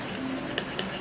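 A spoon stirring coffee in a bowl, with two quick metallic clinks against the sides over a soft steady background, close and fairly quiet.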